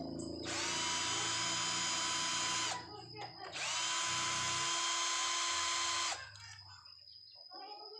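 A power tool whines loudly at high pitch in two long sustained runs with a brief gap between them, loosening a bolt on a motorcycle engine. A softer mechanical clatter follows.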